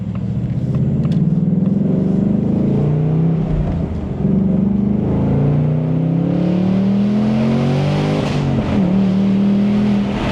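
A Ford Mustang Dark Horse with a 5.0 V8 accelerates hard along tree-lined back roads, its engine note climbing and falling through repeated gear changes and crisp downshifts, loud and continuous throughout.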